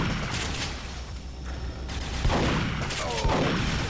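Gunfire from the Duke Nukem Forever video game comes in a few sharp, fairly faint bursts set against a busy, muffled background, with a brief voice mixed in.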